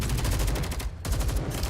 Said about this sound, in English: More than a dozen streams of gunfire tear through the icy air